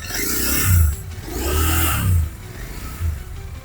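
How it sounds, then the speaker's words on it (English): A Royal Enfield Interceptor 650 parallel-twin with a 270-degree crank, revved close by: a few rising throttle blips that swell and drop back to a lumpy idle, with no talking. "So that's a typical twin cylinder. Typical twin cylinder 270 crank."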